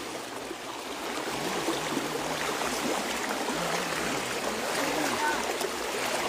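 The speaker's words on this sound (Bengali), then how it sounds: "এত বড় স্রোত যাচ্ছে।" Strong flood current of rushing water in a Comilla flood, a broad steady wash of flowing water heard close and continuous, with faint voices in the background.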